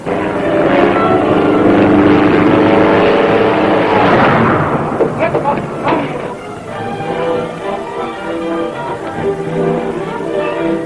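A propeller airplane engine runs rough in flight overhead, a loud, heavy drone that wavers and sags midway before settling into an uneven, throbbing hum.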